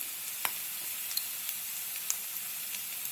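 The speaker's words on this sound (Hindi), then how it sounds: "करी लीव्स, 1 मिनट तक भून लेंगे लहसुन की कच्ची स्मेल जाने के लिए। हींग डालेंगे" Curry leaves and asafoetida frying in hot oil for an aloo vada rassa, giving a soft, steady sizzle with a few sharp little pops, fairly quiet and with no talking.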